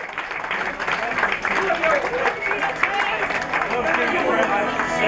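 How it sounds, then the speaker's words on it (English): Audience applause at a Newcastle United supporters' Christmas party in 2021, a steady broad wash of clapping mixed with crowd noise and chatter throughout. "Put your hands together for Junior Turner!"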